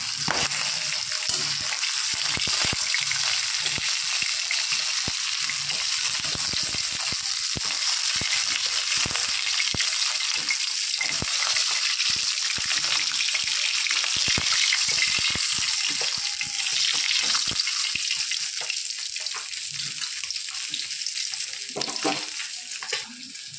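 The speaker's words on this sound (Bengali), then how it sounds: "এইভাবে সমস্ত মাছগুলো আমি ভেজে নেব" Pieces of folli fish (featherback) frying in hot oil in a home kitchen: a steady, dense crackle and sizzle throughout, with scattered sharper pops and faint utensil movement.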